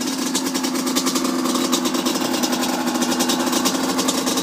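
A 2002 Yamaha Banshee 350 ATV engine idles close by, a loud, rapid, steady two-stroke putter with no pauses.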